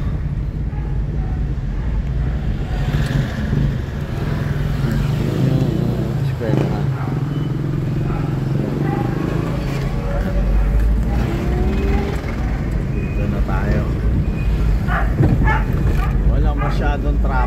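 Road traffic in Valenzuela heard from inside a moving vehicle: a steady engine and road rumble with wind noise, passing vehicles now and then, and people talking over it throughout.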